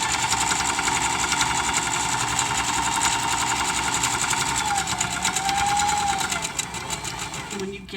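A sewing machine runs steadily through a plain seam, stitching forward and briefly in reverse, its continuous loud mechanical whir with a rhythmic needle chatter filling the whole span before slowing near the end.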